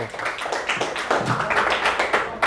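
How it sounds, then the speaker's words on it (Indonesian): Classroom applause for a student group in an arithmetic series lesson, a brisk patter of many hands clapping together, close and lively, sustained for a couple of seconds without talk. "beri aplaus dulu untuk kelompok 1"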